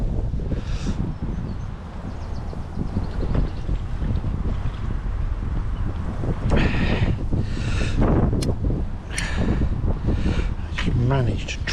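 Steady wind gusting outdoors beside a chalk stream on a spring fishing trip, a constant low roar buffeting the microphone, with people talking over it now and then.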